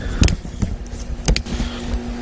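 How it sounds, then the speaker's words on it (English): A small brushless RC car whirs and clatters in short bursts with sharp electric motor whines and bumps, fairly close and alone, with a faint steady tone underneath. "blow off a little steam and play with one of these RC cars"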